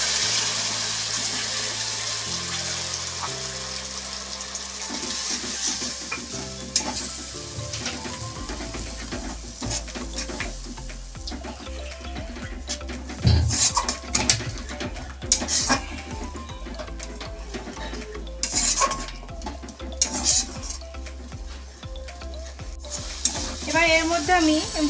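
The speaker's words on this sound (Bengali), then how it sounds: "এবার আমি এর মধ্যে সর্ষে আর কাঁচা লঙ্কা যে বেটে রেখেছিলাম একসাথে সেটা দিয়ে দেবো" Ground mustard and green chilli paste frying in a pan, with a close sizzle running underneath frequent scraping and stirring clatters from a spatula against metal, loud in irregular bursts.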